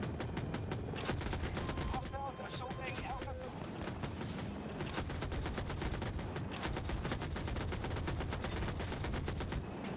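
A game helicopter's 30 mm cannon fires in rapid bursts, sharp repeated thumps running almost continuously with brief pauses and a few electronic tones in the background.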